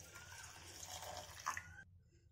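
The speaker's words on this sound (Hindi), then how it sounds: "अब हम इसमें ऐड करेंगे पानी।" Water poured into a pan of sugar for jalebi syrup, a steady close splashing trickle lasting under two seconds before it stops abruptly, with no talk over it.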